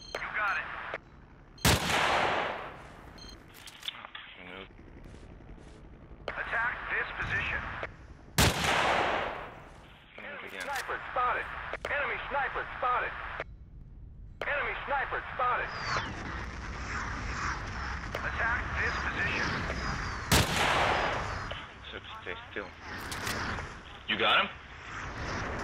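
Sniper rifle shots in a video game: three loud, sharp reports spaced several seconds apart, each with a brief ringing tail, set against continuous game ambience and someone talking throughout.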